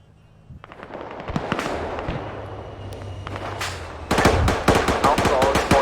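An artillery barrage hits town targets in a game: a rapid series of sharp cracks and booms, scattered at first and then denser and louder toward the end, with faint voices and a low hum beneath.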